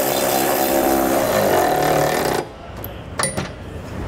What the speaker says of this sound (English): For our flange nuts, we can either use a 3/4 inch socket or that same 19 millimeter socket to tighten them up.